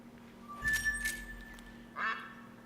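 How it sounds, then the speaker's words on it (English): Wild ducks quack on the water during a duck hunt, two short bursts of calls about a second apart over a quiet, hum-tinged background. "There's so many ducks around."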